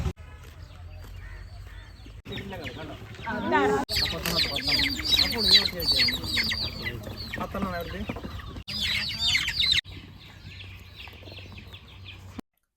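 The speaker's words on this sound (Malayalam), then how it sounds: "കുറച്ച് കോഴികളാണ്. പഞ്ചായത്തിൻ്റെ സ്കീമിൽ നമുക്ക് കുറച്ച് കോഴികളെ കിട്ടിയിട്ടുണ്ട്" A small flock of hens received under a panchayat scheme clucks and squawks close by in irregular bursts, and a person talks over and between the calls.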